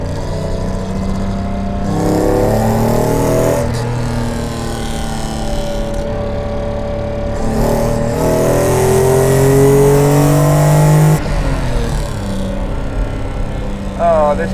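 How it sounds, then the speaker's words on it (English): A Mercedes-Benz 300 SL driven quickly through bends, its engine revving up and easing off in repeated surges as it shifts through corners, loud and close with some wind noise. "I'm just going to drive it through these bends a little bit quickly"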